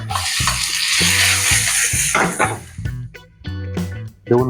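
Beef with mushrooms and garlic sizzling and refrying in a pan, a steady close crackle with intermittent stirring and clinks of a utensil against the pan.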